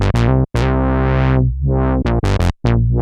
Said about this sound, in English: then played back that MIDI and recorded the audio while moving the filter cutoff frequency in real time